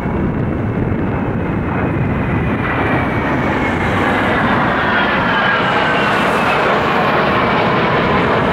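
Two planes fly close together overhead in Russia on Victory Day, a broad, continuous engine roar mixed with wind buffeting the microphone, loud and unbroken with no talking.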